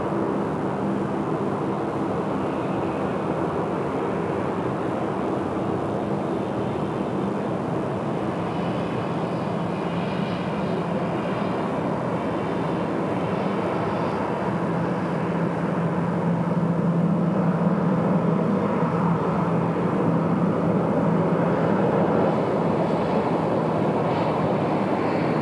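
Steady broadband roar of a plane landing on runway 34 left at Sydney Airport, sustained through the whole stretch and swelling slightly louder toward the end, with no talk over it.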